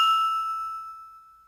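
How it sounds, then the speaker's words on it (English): One struck glass sample, pitch-corrected to a musical note, gives a clean, bright ringing tone that fades slowly over a second and a half, isolated and close. "So now the tuned glass sounds like this."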